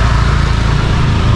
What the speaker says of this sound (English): And here is a motorcycle.